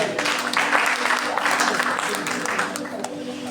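A church congregation breaks into dense, sustained applause and cheering to acclaim Jesus during a pastor's service, a loud, continuous wash of many hands with scattered voices mixed in throughout.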